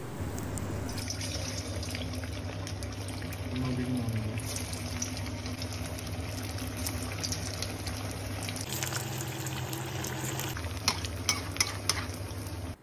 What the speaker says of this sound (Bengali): এবার আমি এটাকে তেলের মধ্যে ছাড়বো